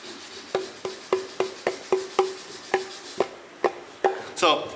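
Wooden violin plate tapped by hand during violin making, a run of about fourteen sharp, close knocks with a short woody ring, evenly paced then spaced out, the last ones brighter and higher.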